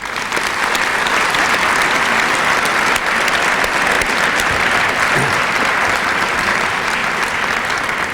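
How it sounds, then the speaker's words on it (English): An audience at a club gathering applauds a group of club officials, a dense, steady burst of clapping from many hands that holds loud and even throughout without speech. "how about a round of applause for this group?"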